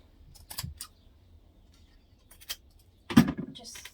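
Scissors snipping through fabric while trimming a backpack zipper pocket, a few short crisp cuts close by, with a louder snip near the end.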